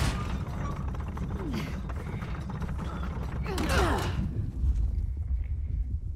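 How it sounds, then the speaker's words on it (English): A heavy crank mechanism in Uncharted The Lost Legacy grinds and creaks with slow ratcheting turns over a deep rumbling bed, loud and continuous throughout. "guess we turn this crank and see what happens next"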